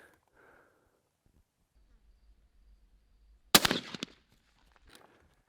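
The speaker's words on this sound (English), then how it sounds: "Now I'm going to put in the shell that I've cut around, and I'll show you the difference." A single sharp shotgun blast from a cut shell fired as a makeshift slug, one loud crack after several seconds of near silence, followed by a brief trailing rattle.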